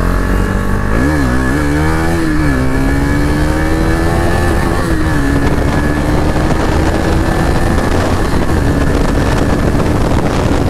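A modified KTM Duke 250 BS6 motorcycle pulls hard under acceleration, its engine note climbing steeply through the revs, dipping briefly at a gear change, then rising again in a loud, close, sustained buzz.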